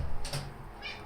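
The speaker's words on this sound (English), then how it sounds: "The cat's shouting at me outside the door." A house cat meows loudly just outside a closed door, two close yowling calls in quick succession followed by a fainter, shorter cry, with no talking.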